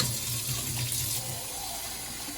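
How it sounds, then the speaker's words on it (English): Hot water runs steadily into a pot of beef curry, a continuous soft gushing pour that carries on without a break. "I'm gonna put some more hot water into it"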